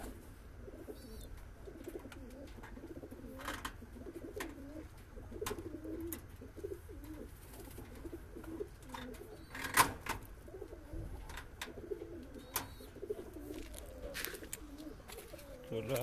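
Pigeons coo in a pigeon loft, with repeated soft rolling coos at a moderate distance, faint throughout, and occasional light knocks and rustles.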